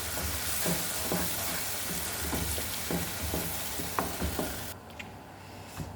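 A tomato-based fish salona sauce sizzles and crackles steadily in a pan at close range, with small spattering pops throughout. Near the end it quiets slightly.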